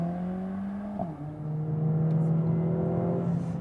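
Mercedes-AMG A45 S on a race track, engine note climbing, dipping briefly at a gear change, then pulling steadily higher again, heard from inside at moderate volume.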